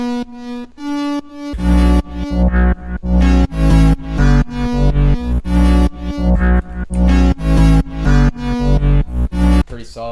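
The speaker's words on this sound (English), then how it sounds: "I added an even higher stack of the same bass that sounds like this" EDM outro with an even higher stack of the same distorted bass layered on top: loud rhythmic chopped bass chords after a brief sparse intro, steady pulsing pattern, no voices.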